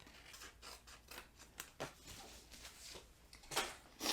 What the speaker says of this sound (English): Move on to the next one and cut out the square.